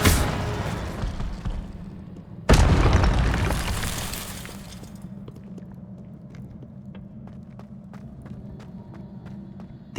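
An Incendio fire spell cast in the game Hogwarts Legacy: a sudden loud burst erupts, then a roaring fiery rush fades over several seconds, leaving a low rumble and scattered faint clicks and taps.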